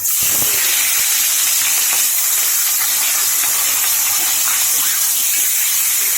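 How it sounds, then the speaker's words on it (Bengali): Hilsa fish heads frying in hot mustard oil give a loud, steady hiss and sizzle that carries on without a break, close up, with no talking. "ইলিশ মাছের মাথাগুলো ভালো করে লাল লাল করে ভেজে নিয়েছি"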